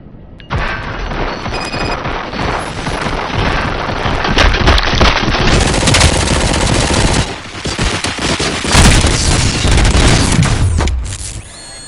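Gunfire in RoboCop: Rogue City erupts as loud, sustained machine-gun bursts mixed with heavy booms, continuous for about ten seconds before cutting off abruptly.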